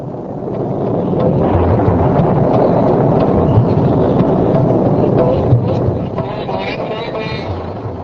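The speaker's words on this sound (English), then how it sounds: "The sky began to rumble with thunder, and lightning flashed on the horizon." Thunder from a rainstorm rolls as a steady, loud, broadband rumble that swells for several seconds and then eases slightly toward the end, with no distinct cracks.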